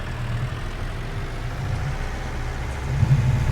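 A tractor engine in Farming Simulator 19 idles with a steady low rumble, close and continuous, swelling slightly louder near the end.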